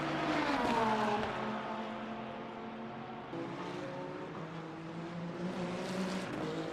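Le Mans Ultimate race cars, including a Lamborghini and a BMW hypercar, roar as engines rev and shift in an online race, a steady, loud drone with pitch climbing and dropping through gear changes.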